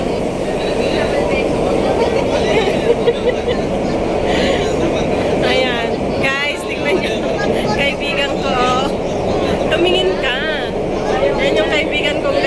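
Inside a moving passenger train, a loud continuous rumble and rattle of the carriage fills the space while people talk and laugh close by.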